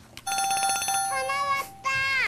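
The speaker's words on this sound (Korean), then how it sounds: "전화 왔다" A telephone rings with an incoming call: an electronic ringtone of bright tonal bursts that repeat in a steady, clear pattern close by.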